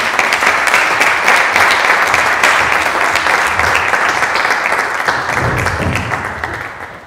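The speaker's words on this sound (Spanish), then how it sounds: "Un fuerte aplauso para Mireia." Hearty audience applause for Mireia after a demonstration in a talk on biofeedback and music education, loud dense clapping that tapers off near the end.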